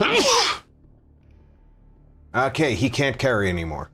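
A single sharp, explosive human sneeze bursts out at the start, followed by a short pause and then someone speaking close to the mic.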